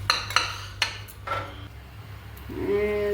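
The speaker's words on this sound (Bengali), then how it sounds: "এবারে একটা কড়াই চাপাচ্ছি।" A kadai is set down on the stove with several sharp metallic clanks and knocks in quick succession. A voice begins near the end.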